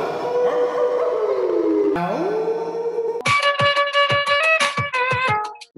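Voices imitate wolf howls with drawn-out sliding tones, then break into a quick series of choppy yips and short howls that fade out.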